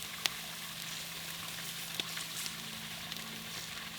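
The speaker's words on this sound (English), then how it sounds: "We'll give them another sear on this side." Ribeye steaks searing over the fire of a PKTX grill, a faint, steady sizzle with a few sharp crackles and pops, no voices.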